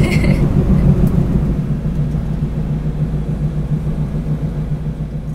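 A car driving on a long road trip between Mae Hong Son and Chiang Mai in northern Thailand, its steady low engine and road rumble continuing evenly inside the cabin.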